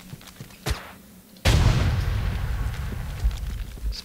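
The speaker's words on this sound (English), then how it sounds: "Explosion!" A sudden loud blast in the shooter Resident Evil: Operation Raccoon City follows a few small pops and settles into a long rumbling decay with crackles.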